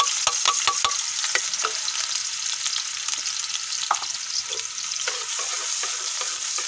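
Onions frying in hot oil in a pan for mutton liver masala, a loud continuous sizzle close up with several sharp clicks of a spoon stirring against the pan early on and a few later, no talking.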